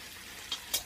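Food frying in a covered pan, a soft continuous sizzle with two brief louder crackles near the end, heard alone with no talking.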